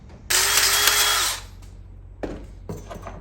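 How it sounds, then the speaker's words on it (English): A power tool whirs in one loud burst of about a second while an exploding rivet is set to hold a golf cart LED wheel light ring, followed by two faint clicks and handling knocks. "what I'm doing is I'm just putting one of these exploding rivets in there to hold that together"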